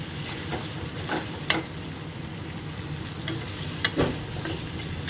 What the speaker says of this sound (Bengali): জিরেটা সুন্দর করে ভাজা হয়ে যাওয়ার পর প্রত্যেকটা কোচানো জিনিস আমি এর মধ্যে এবার দিয়ে দিলাম।